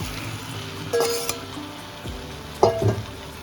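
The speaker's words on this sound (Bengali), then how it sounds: "আমি আলু আর চিংড়ি মাছটা ভেজে রেখেছিলাম হালকা করে এটা দিয়ে দেবো" Fried potato and prawn dropped into hot masala with jackfruit: a soft background sizzle broken by two bursts of clinking and scraping from utensils against the pan, close and fairly quiet, without speech.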